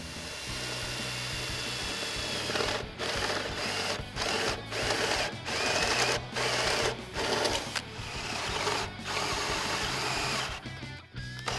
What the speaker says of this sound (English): I can pull the skid plate off and drill it